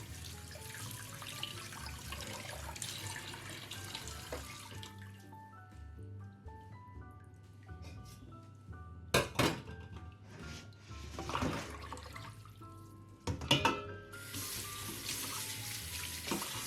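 Salmon fillet rinsed under a running kitchen tap to wash off its scales, a steady stream of water splashing in the sink with a few louder splashes and knocks, no voices.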